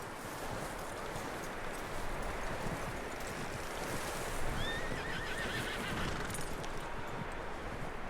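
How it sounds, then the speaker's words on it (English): A horse in the Red Dead Redemption 2 video game whinnies once midway through, faint under a steady wash of wind and outdoor ambience, with some hoof clatter. "That looks like a decent horse. You should keep him. Tie him up over there, Arthur."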